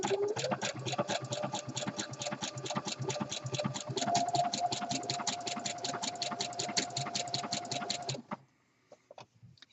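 A sewing machine runs steadily for about eight seconds, stitching fold-over elastic onto the raw edges of a jockstrap pouch. It gives a fast, even rattling hum, then stops abruptly, leaving near silence.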